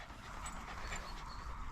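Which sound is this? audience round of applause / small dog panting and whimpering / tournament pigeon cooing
small dog panting and whimpering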